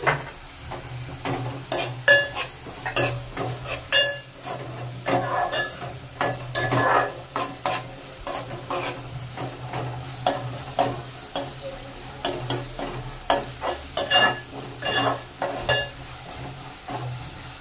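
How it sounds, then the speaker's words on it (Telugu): Ginger garlic paste fries in a pan for a tomato egg curry, with soft sizzling under repeated scraping and clinking strokes of a spoon stirring against the metal. "1 టేబుల్ స్పూన్ అల్లం వెల్లుల్లిపాయ పేస్ట్ వేసుకోవాలి"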